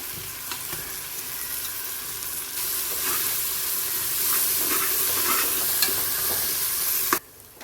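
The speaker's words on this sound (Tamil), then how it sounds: "இஞ்சி பூண்டு நல்லா வதங்கிருச்சு." Ginger, garlic and mint fry steadily in hot oil for mutton biryani, a loud continuous sizzle with occasional stirring scrapes, then cutting off abruptly near the end.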